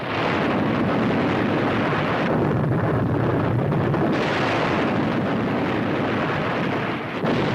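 Sustained loud roaring rumble of blasts and churning water, dense and continuous with wind buffeting throughout, no clear gaps.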